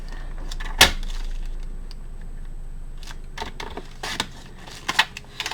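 Paper being cut for a handmade folio journal, a sharp snip near the start followed by a few softer cutting and handling sounds later, close and quiet with no talk.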